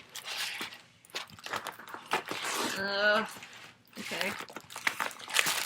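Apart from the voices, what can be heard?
unwrapping a diamond painting kit package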